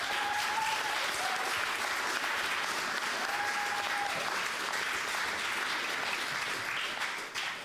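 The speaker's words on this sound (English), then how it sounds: "And another warm applause for our three speakers now, who will join the panel discussion." Loud, sustained audience applause for three panel speakers at a public discussion on comedy, the sacred and Islamophobia; dense, steady clapping fills the full clip without pause.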